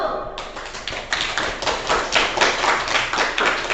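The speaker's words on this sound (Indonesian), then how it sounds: "Beri aplaus dulu." A classroom of students applauds a student discussion group, a dense, sustained burst of many hands clapping that starts abruptly and continues steadily and fairly loud throughout.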